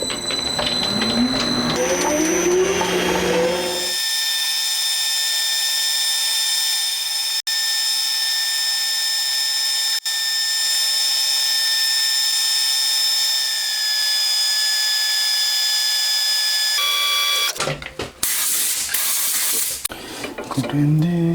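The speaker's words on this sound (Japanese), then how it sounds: "これ今30なので26になるまでバサバサーっと削っちゃいますね。" A metal cylinder is turned down from 30 mm to 26 mm on a lathe while making parts for a 125cc four-cylinder, 16-valve engine. A loud, steady whine of bright cutting tones runs for most of the clip, with rougher machine noise at the start and end.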